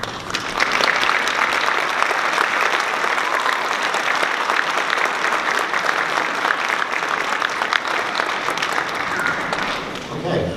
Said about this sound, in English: can we stand and let everyone clap for you